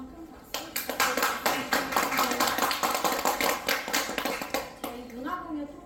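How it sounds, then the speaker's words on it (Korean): A small audience at a cultural talk event claps for several seconds, a close, lively patter of hands that fades out as a voice begins to speak. "다시 한번 큰 박수."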